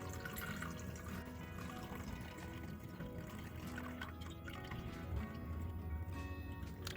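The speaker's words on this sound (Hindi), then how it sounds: "तो बहुत ही धीरे धीरे हमें पानी निकालना है।" Water is slowly poured off semolina for kurwadi in a steady, low stream, with soft liquid gurgling continuing throughout at a moderate, close level.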